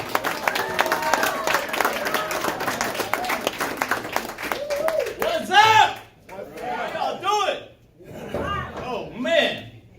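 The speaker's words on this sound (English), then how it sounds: "Thanks for that awesome hand claps." Hand clapping from an audience at a book release event rises as a dense, lively round of applause for several seconds, then gives way to a voice speaking with brief bursts of cheering.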